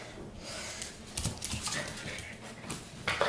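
A puppy whimpers and pants close by indoors, soft whines and breathy snuffles coming in short uneven bursts over a few seconds, quiet overall.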